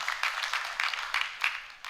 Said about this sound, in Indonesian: Ya beri tepuk tangan, oke.